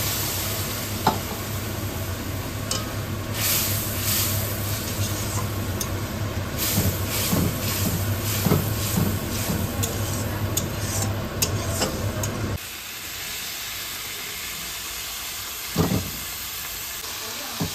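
Potatoes and a prepared spice paste frying in a pan in a home kitchen, a steady close sizzle with occasional stirring scrapes and clicks, the hiss dropping lower partway through.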